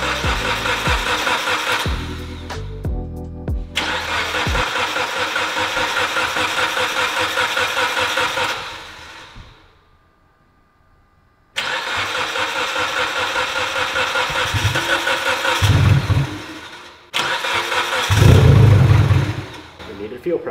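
A Mitsubishi Evo X engine cranks and starts, settling into a steady rough idle, cuts out into near silence, then fires up again and idles, with louder revving bursts and voices speaking over it toward the end.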